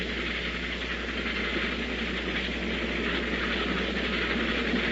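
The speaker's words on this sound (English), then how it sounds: "That train is coming again." Old-time radio sound effect of a train approaching on a railroad track, a steady rumbling roar with hiss and faint clickety-clack holding at constant loudness throughout, with no talk over it.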